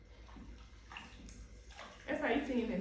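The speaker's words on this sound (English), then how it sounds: "You pick your leaves, you put it into the water individually." Cocoyam (kontomire) leaves are set one at a time into a basin of water and washed, giving soft splashes and sloshing that swell louder near the end, with a voice speaking over the water.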